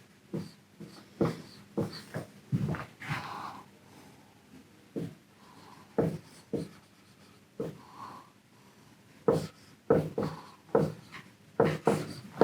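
Chalk or marker strokes on a board during a mathematics lecture, coming in short irregular bursts of scratching and tapping with brief pauses between them, close and moderately loud.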